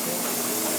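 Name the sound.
steam turbine running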